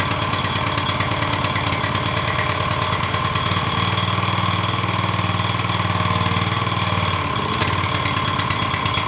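A Pramac S2800 portable generator engine runs loud and close with a dense, rapid, jackhammer-like clatter that holds steady throughout and shifts slightly in tone midway.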